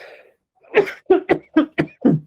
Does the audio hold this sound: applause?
no